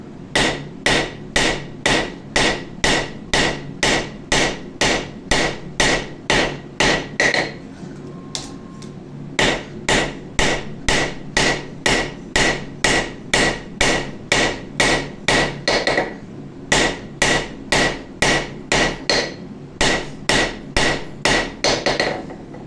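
A hammer forges the hot steel tip of a santoku chef knife with a steady, rapid series of loud close metallic blows. There is one brief pause midway, then the strikes continue in an even rhythm.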